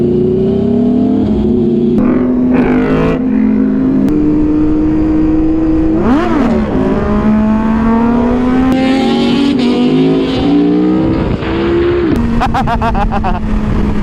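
A car engine revs hard on throttle through gear shifts, rising and falling loudly and close up throughout, with brief shouts of excitement over it.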